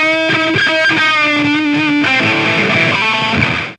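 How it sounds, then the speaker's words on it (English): Electric guitar played through a Steel Panther Pocket Pussy Melter mini distortion pedal, heavily distorted chords and single notes ringing loud and close, a short riff that cuts off abruptly at the end. "Let's try it with the distortion on here."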